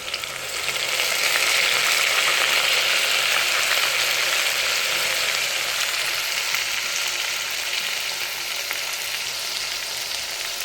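Rice frying in a pan with garlic paste for ghee rice, producing a loud continuous hiss and crackle that swells early and then holds steady with no voices.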